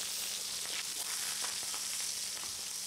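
Steaks and peppers sizzle and sear on a Kool Grill portable barbecue, a steady, dense crackling hiss with small pops throughout, heard close and alone.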